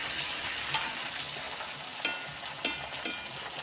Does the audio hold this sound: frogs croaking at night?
no